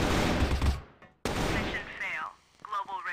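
Video game shootout with a sniper on the A bombsite: a dense burst of gunfire fills the opening second and stops abruptly, then an excited voice speaks over further game sounds.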